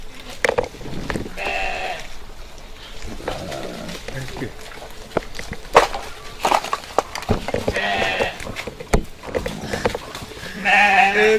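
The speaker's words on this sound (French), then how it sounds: "les moutons viennent manger" Sheep coming to eat, bleating repeatedly at close range in several separate calls, heard among people talking and general outdoor bustle.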